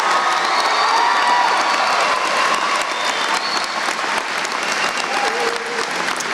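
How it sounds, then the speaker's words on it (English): Graduation ceremony audience applauding and cheering in a large hall, dense sustained clapping with scattered whoops and shouts for the full length, loud and close. "Let's please give T."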